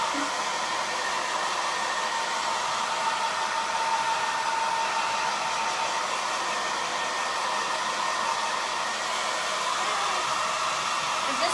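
Hair dryer drying ink on a shirt, a steady, loud, unbroken rush of blowing air that holds evenly from start to finish.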